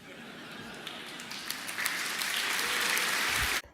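Auditorium audience breaks into sustained applause, a dense wash of many hands that swells steadily for over three seconds before cutting off abruptly.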